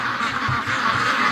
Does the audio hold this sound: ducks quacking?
yes